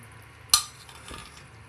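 A spoon scrapes and clinks once against the pot while soybean pulao is stirred, a single sharp close knock followed by a softer shuffle, with no talking.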